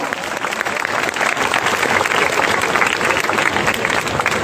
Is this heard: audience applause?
yes